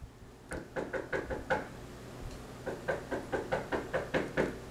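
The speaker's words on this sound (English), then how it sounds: "Sneak and knock on the door." Repeated knocking on a door, two bursts of quick raps separated by a short pause, crisp and close with nothing else in the background.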